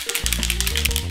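A spray foundation can is shaken hard, its mixing ball rattling in fast, regular clacks close to the mic, while a steady low hum runs underneath.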